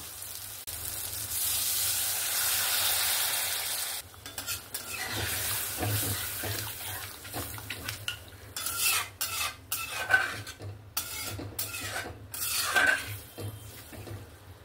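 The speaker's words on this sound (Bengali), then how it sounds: "এবার আমি এখানে পরিমাণ মতন জল দিয়ে দেব।" Water is poured into fish curry masala in a pan, giving a rushing, sizzling wash of sound, followed by a spoon scraping and knocking against the pan as the mixture is stirred in irregular bursts.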